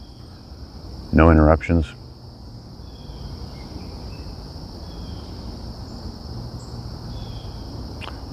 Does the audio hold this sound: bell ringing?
no